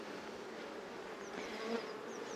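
Honeybees hum at an opened beehive during a colony inspection, a steady close swarm drone with a few individual bees flying past, and no voices.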